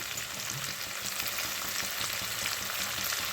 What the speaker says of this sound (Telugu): ఇవి బాగా వేగిపోయినప్పుడు ఉల్లిపాయలు వేసేద్దాం, అప్పుడు పేలడం ఆపేస్తాయి